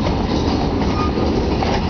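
Train cars on the Berkshire Hills line moving through a rail yard near a junction, giving a dense, even rolling rumble of wheels and couplings, loud and unbroken.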